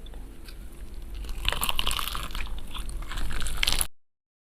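Close, crisp crunches as someone bites into and chews crunchy fried chicken, with a crackling burst in the middle and a louder crunch near the end before sudden silence.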